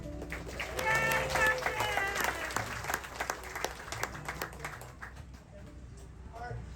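Wedding guests aboard a boat clap for the captain, a moderate burst of applause that fades after a few seconds, with voices and background chatter mixed in.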